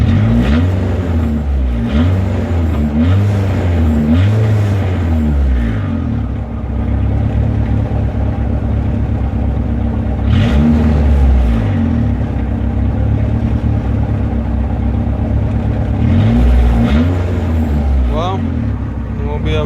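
A car engine running flex fuel through junkyard injectors revs repeatedly while being tuned, loud and close with rising and falling sweeps, and someone talks over it.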